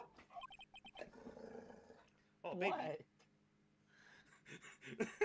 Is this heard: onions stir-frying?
no